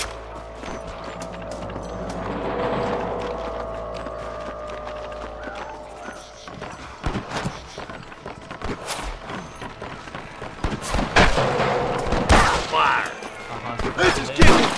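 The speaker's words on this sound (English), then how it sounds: "I can hear more gunshots." Gunfire in a Red Dead Redemption shootout, sharp scattered shots growing denser toward the end, with horse hooves, clattering effects and talk mixed in.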